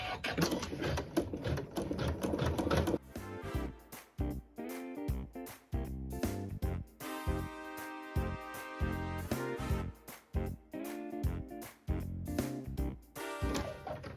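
An embroidery sewing machine tacks down red fabric, its rapid needle chatter running in bursts separated by short pauses, loud and close, with no talking.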